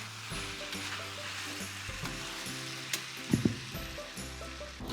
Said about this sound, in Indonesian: Kalau air sudah semakin habis, kita harus lebih sering mengoseng agar kuali dan ayamnya tidak gosong.